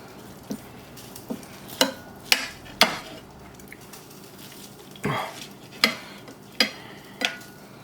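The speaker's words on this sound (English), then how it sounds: "We're going to slice our meatloaf." A knife slices through a cooked meatloaf in about nine separate cuts, each a short crisp stroke against a board, spaced unevenly with brief quiet gaps, close and moderately loud with no talking.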